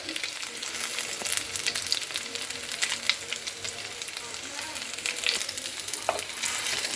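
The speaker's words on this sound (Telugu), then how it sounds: "చూడండి తక్కువ ఆయిల్లోనే ఫ్రై అయిపోతున్నాయి." Fish frying in a small amount of oil with masala, a dense, crackling sizzle close by with irregular pops and spatters throughout.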